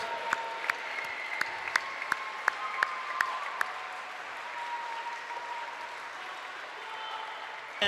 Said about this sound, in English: Let's all give one big last final round of applause to our Upper St. Clair High School senior swimmers and divers.